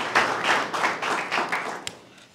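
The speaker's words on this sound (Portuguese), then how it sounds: "um aplauso para todos e muito obrigada" A short burst of audience clapping at a closing event, close and distinct claps in an uneven rhythm that fade out near the end.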